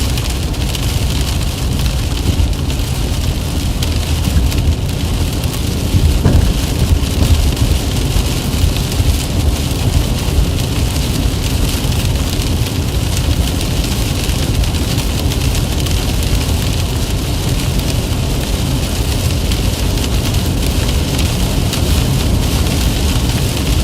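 Heavy rain pounds down steadily during a thunderstorm with a tornado threat, a dense, loud, unbroken roar of drops on surfaces lasting throughout with no voices.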